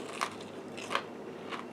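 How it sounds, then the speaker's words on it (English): Bites into a crispy panko-coated fried chicken bite give three quiet, sharp crunches spaced across a couple of seconds, close up against a faint background hiss. "So I'm going to take a bite."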